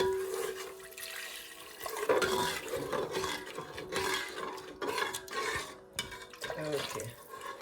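Water is poured into a pan of simmering fish curry, making soft, continuous splashing and sloshing with small clinks, fairly quiet and close, without speech.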